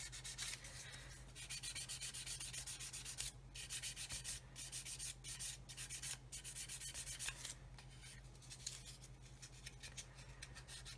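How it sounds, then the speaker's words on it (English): Soft sanding stick polishing a 1/32 Airfix Humber plastic scale model, a close, steady dry rubbing with quick back-and-forth strokes and brief pauses, over a constant low electrical hum. "get our soft sanding stick, wherever that is, here it is, and then just polish away"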